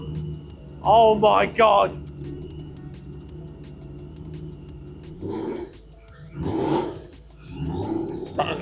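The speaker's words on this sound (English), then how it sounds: "Welcome everyone to my supercharged 540i. It runs, listen to it." Supercharged BMW 540i engine idling steadily at close range, a low continuous rumble with brief revs; people talk over it in places.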